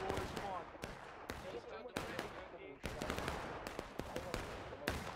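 Rapid crackling gunfire in the Civil War game War of Rights on the Piper Farm map, many sharp shots in bursts near and far, with voices talking over the shooting.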